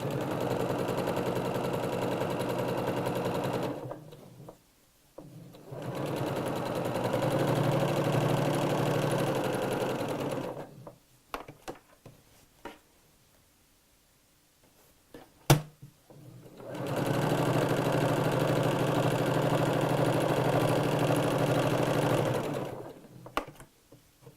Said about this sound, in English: So I don't want to be sewing through all of those layers.